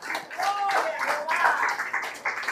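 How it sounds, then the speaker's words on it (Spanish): Congregation clapping in a church after a sermon, a short burst of applause heard together with voices speaking and calling out. "Denle aplauso de gloria."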